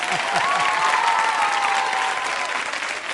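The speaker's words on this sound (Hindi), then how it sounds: "हाँ, तालियां तो बजा ही लीजिए, बजा लीजिए" A studio audience at a women's quiz show gives a steady, dense burst of applause that stays loud and even throughout, with a faint voice beneath it.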